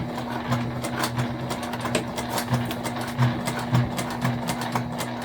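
A sewing machine runs steady stitching on a sling bag, a constant mechanical hum with quick rhythmic needle taps and small bursts of speed, close and fairly loud with no talking.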